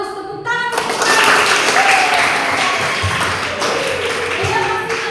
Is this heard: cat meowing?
no